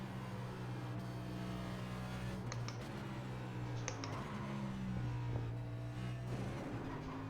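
NASCAR NextGen race car engine in iRacing at Nashville, a steady humming drone with pitch shifts as the car slows, mixed with soft clicking and keyboard-like taps, fairly quiet throughout.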